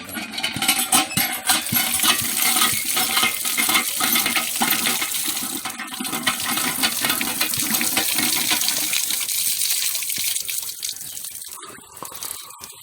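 Cold water pouring steadily from a tap at a shrine, a continuous close splashing rush that thins and falters near the end.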